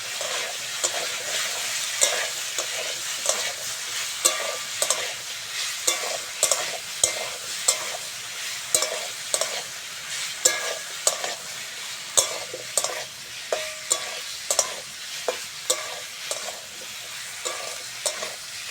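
Chopped onion fries in a pan for a Bengali egg-and-brinjal curry, a steady sizzle punctuated by regular scraping strokes of a spatula stirring, close and fairly quiet, with no voices.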